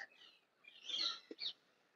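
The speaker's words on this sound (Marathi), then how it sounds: "वरती तुम्ही कोकिळांचे आवाज ऐकतात." An Asian koel calls overhead, a clear whistled note followed by a shorter second note, moderately distant in a quiet setting on the elevated nature trail at Malabar Hill.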